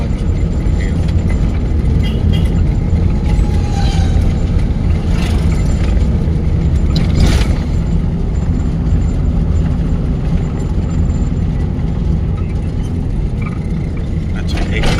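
Car driving during a lesson as the learner shifts into third gear, a steady close engine and road rumble running continuously throughout, with an instructor talking over it.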